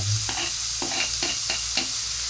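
Garlic sautéing in melted butter in a pan, a steady close sizzle broken by several short scraping stirs, with no talking.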